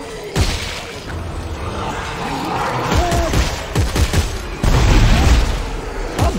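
Secondary weapon firing in the sci-fi shooter Dead Space 3, several loud booming shots with sharp attacks and rumbling tails spread across the stretch, amid continuous game ambience and effects.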